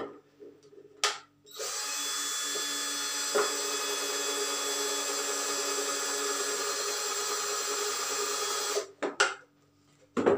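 A power drill boring a hole with a drill bit, a steady high whine held for about seven seconds after a brief start, with clicks and handling before and after.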